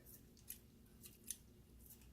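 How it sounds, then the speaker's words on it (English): Very quiet, crisp snips of kitchen scissors cutting raw chicken, a few spaced strokes over a low background hum. "So I like to use the scissors."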